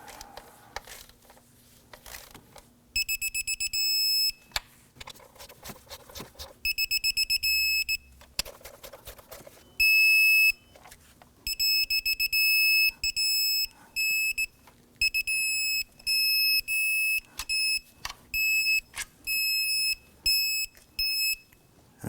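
An electronic torque wrench beeps while valve cover bolts are tightened on a 2008-2011 Ford Focus, sounding repeated close, loud high-pitched tones in short bursts and longer runs separated by brief pauses, with occasional clicks between them.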